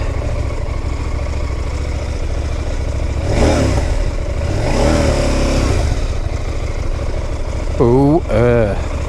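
A KTM 990 Duke motorcycle engine idles with a steady low rumble, swelling into a couple of throttle revs, while a voice speaks briefly near the end.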